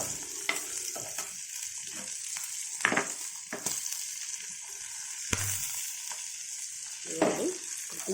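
Green chillies fry in a pan for a ridge gourd coconut chutney, a steady soft sizzle under repeated light scraping stirs of a spoon against the pan, close and alone without speech.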